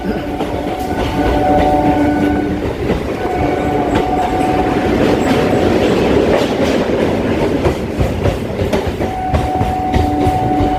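A Kolkata local train runs between Sealdah and BBD Bag, its steady rumble and rhythmic clickety-clack of wheels over rail joints loud and continuous throughout, with sustained tonal whines rising above the noise.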